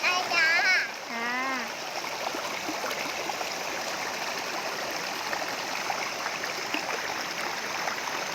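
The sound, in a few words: splashing and playing in waterfall water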